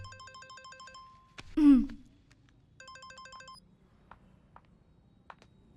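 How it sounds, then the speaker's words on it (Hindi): A mobile phone rings in a Hindi action film scene, its electronic ringtone repeating in two bursts of stacked beeping tones, broken by a loud swooshing hit in between and a few faint clicks afterward. "फोन।"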